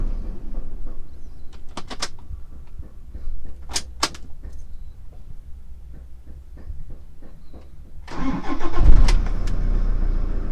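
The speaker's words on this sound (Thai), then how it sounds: "เดี๋ยวเรามาลอง ดับเครื่องแล้วก็สตาร์ทใหม่ดูนะครับ" A car with an ABS warning light on, after its battery was topped up with distilled water, is switched off. A few faint clicks follow, then it cranks and starts near the end into a louder, steady idle.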